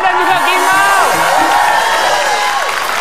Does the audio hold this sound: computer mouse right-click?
no